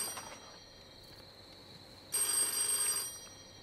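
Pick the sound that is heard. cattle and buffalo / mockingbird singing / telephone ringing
telephone ringing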